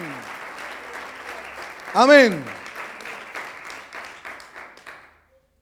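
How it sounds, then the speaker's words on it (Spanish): A church congregation claps in rhythm during a Spanish-language sermon. A voice rings out with a drawn-out amen partway through, and the applause then tapers off to quiet near the end. "Alguien le da el aplauso más lindo de esta tarde"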